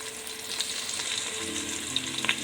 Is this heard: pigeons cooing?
no